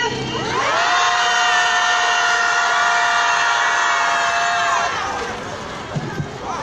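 A crowd at a Wednesday rally over Japanese military sexual slavery shouts together in one loud, sustained cry for about four seconds, then it fades into scattered voices and a brief thump.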